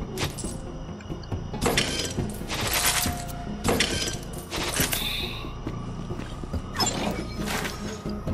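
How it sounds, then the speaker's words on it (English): A Borderlands 3 elevator grinds and clanks in loud mechanical bursts with metallic creaks and rattles over a continuous rumbling hum. "Ah, elevator."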